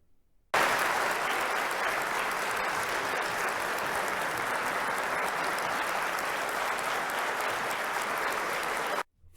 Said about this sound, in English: 30 solid seconds of applause.